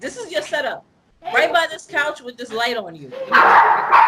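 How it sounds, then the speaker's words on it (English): A dog barks somewhere indoors near a couch, heard mostly under a man's conversational speech, with a brief burst of broadband noise toward the end. "there was a dog just barking."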